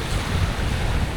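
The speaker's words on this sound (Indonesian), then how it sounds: "Dan ombaknya nggak begitu gede ya." Small, gentle ocean waves wash continuously onto a beach on Sumbawa, a steady low rumbling surf mixed with wind buffeting the microphone, with no distinct individual breaks standing out.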